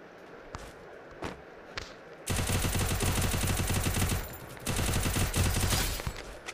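Rapid automatic UMP gunfire from the mobile battle royale Free Fire Max, loud sustained bursts of shots after a few isolated clicks and thumps, with a short pause between two long volleys.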